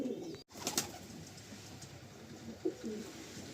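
Chotiyal pigeons kept in a sale coop give faint, scattered cooing over a steady background hiss, with a sharp thump near the start and a brief louder call later on; no one speaks.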